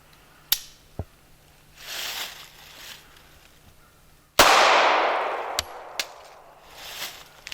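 A Smith & Wesson Bodyguard .380 pistol fires a few sharp, spaced shots, close and loud, with one louder ringing report midway; some rounds misfire, leaving quiet gaps and small clicks between.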